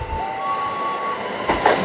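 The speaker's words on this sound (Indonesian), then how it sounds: "kereta masuk jalur 2 dari Rangkas Bitung menuju Tanah Abang" An Indonesian KRL Commuter Line train pulls into a platform, a loud steady rumble of rolling wagons with a thin wheel squeal running through it, swelling slightly near the end.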